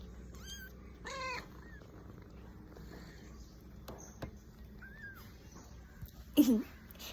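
A few short, soft cat meows come at spaced intervals over a quiet background, with a brief clatter near the end.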